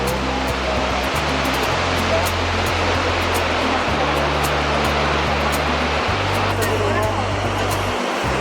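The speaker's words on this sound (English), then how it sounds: "It's amazing waterfalls." Snoqualmie waterfall in Washington State roars as a steady, loud broadband wash of falling water, with low rumble throughout and people talking over it.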